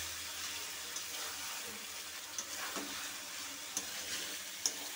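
Fried pointed gourd with shrimp and spices stir-frying in a pan, a steady soft sizzle with occasional light scrapes and taps from a spatula. The sound is faint and close, and nobody speaks.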